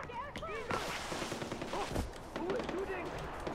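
Bursts of rapid gunfire in Far Cry 4, distant-sounding volleys crackling amid game ambience, with a voice talking over them.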